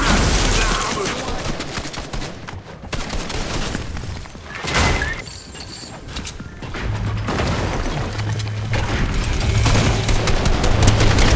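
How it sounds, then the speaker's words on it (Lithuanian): Dense, continuous gunfire from the Fortnite video game, rapid bursts and booms layered over one another for the whole stretch, loud and busy with occasional crash-like impacts. "jau šaudo"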